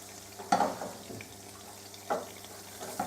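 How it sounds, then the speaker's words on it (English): Welsh cakes frying in a hot pan, a soft steady sizzle broken by a few brief scraping clatters as they are flipped over, quiet and close with no talking. "So we're just going to flip them over now"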